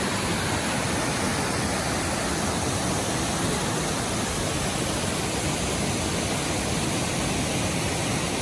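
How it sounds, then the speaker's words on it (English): Canyon Falls, a waterfall in Michigan's Upper Peninsula, gives a steady, dense roar of rushing water. It sounds close and loud and holds constant throughout, with no voices. "This one is Canyon Falls."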